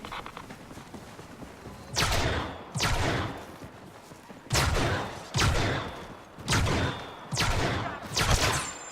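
Gunfire from the Star Wars Battlefront 2 PC beta: loud, dense bursts of blaster fire arrive in five or six separate volleys over a steady battlefield background, with no talking.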